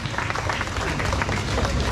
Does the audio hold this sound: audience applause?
yes